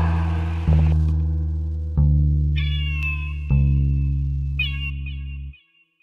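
A cat meows loudly and close by, four drawn-out, wavering meows in a row with short pauses between them and no other sound.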